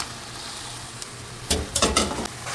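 Mashed taro tipped into spiced masala frying in a pan, giving a low steady sizzle and then several loud close scrapes and stirring clatters in quick succession.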